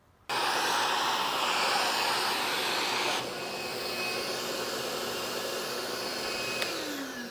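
A vacuum cleaner runs steadily while clearing a GFRC concrete countertop mold, switching on abruptly and holding a loud, close whine that shifts slightly in pitch partway through.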